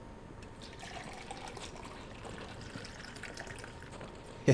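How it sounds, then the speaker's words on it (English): Magic water trickles steadily and softly in Final Fantasy XVI, a faint continuous flow with one brief louder bump at the very end. "Magic water."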